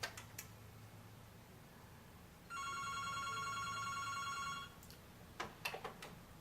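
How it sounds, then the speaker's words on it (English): A home telephone on a POTS landline rings once with a bright electronic warble lasting about two seconds in a quiet room, followed by a few soft clicks and taps. "the POTS line will ring"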